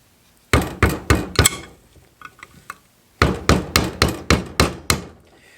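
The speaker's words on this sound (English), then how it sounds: "We're just going to take a flathead screwdriver and tap the edges of it." Sharp metallic hammer-like taps from a flathead screwdriver struck against the edges of a castle nut on a 4G64 engine: four quick raps, a pause with faint light clinks, then six more evenly spaced raps, close and loud.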